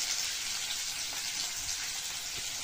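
Tomato fries with onion in a pan for paneer bhurji, making a loud, steady hissing sizzle close up that never lets up.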